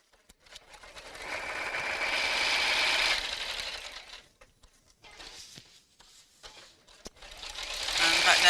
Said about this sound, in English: just make sure it's only pocket fabric you're sewing through